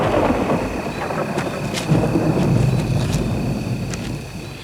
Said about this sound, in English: we're hearing the thunder crash, the lightning, the tensions rising, the storms coming